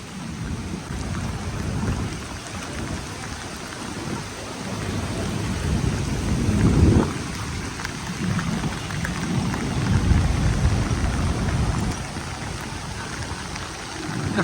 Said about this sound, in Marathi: जोरदार परत पाऊस चालू झालाय.